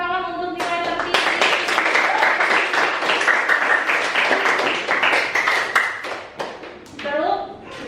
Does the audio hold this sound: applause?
yes